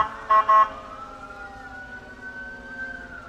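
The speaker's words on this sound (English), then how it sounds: "You just saw one of their pumpers, engine number 21, and now their fire rescue and ladder truck." Fire department ladder truck and pumper engine passing in a street parade, a steady wailing siren sustained throughout, with a short louder horn-like blast near the start.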